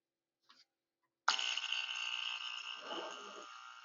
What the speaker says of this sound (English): And this is the sound of 60 cycles per second,